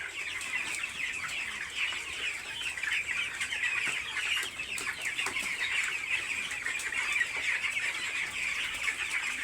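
Young broiler chickens, about seventeen days old, cluck and peep in a poultry shed, a faint, busy chorus of overlapping calls throughout.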